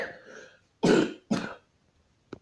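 A person indoors clears their throat and coughs twice in quick, close, sharp bursts, after a soft murmur and before a small click, with no other sound around.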